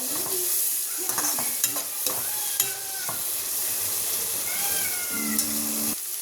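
Onion, tomato, garlic and turmeric stirred in a cooking pan, with a continuous sizzle and scraping strokes of a spoon, close, while a cat's meows and other stray noises rise briefly over it.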